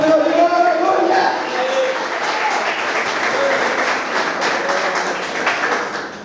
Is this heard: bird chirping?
no